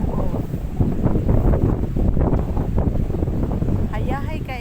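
Steady, buffeting wind at a beach in Dumanjug rushes hard across the microphone, loud and close, with faint surf-like wash underneath.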